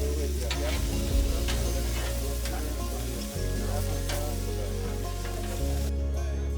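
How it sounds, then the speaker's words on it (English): Bratwursts frying on an outdoor grill at a Fourth of July lakeside gathering, with a steady crackling sizzle that runs throughout, close and even, and no talk. "As the brats were cooking on the grill"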